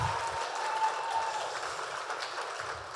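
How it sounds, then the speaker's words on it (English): Audience at an entrepreneurship fundraising event applauding, a brisk continuous patter of many hands clapping, steady and fairly loud for a few seconds with no talking over it. "Let's clap for that."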